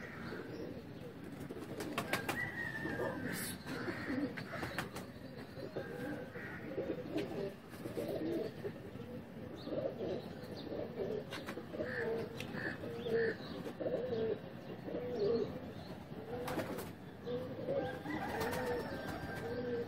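Pigeons being readied for flying competition coo repeatedly nearby, soft rolling calls recurring throughout, with occasional crow caws and scattered background sounds, no talking heard over them.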